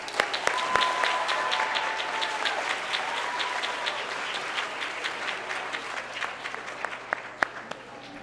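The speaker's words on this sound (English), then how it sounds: "Let's give Garuda another big cheer and a big clap." An audience at a primary school awards ceremony claps steadily, with sharp individual claps standing out and faint cheering mixed in, over the whole stretch.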